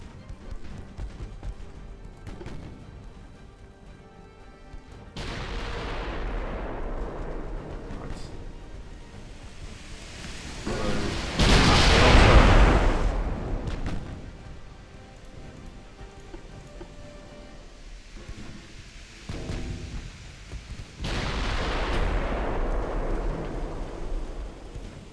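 Naval 4-inch guns firing and shells striking a ship in a 1920s warship battle game, heard as repeated swelling blasts and rumbling impacts at about 5, 12 and 21 seconds over a lower continuous din, with no talk.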